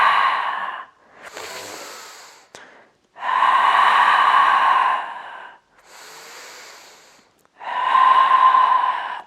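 Slow, deep breaths during a yoga pose, long airy exhales alternating with shorter inhales and brief pauses, close and clear with no talking.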